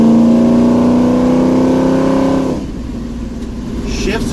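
A 1971 Chevy C10 with a new torque converter accelerates hard along a straight road, its engine droning and rising steadily before dropping in pitch at a gear shift, then pulling on again, loud and close.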